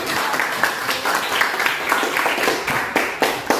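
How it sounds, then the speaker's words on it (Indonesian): Students in a classroom clap their hands together, uneven sharp claps from a small group rising and falling, with some voices mixed in. "boleh tepuk tangan"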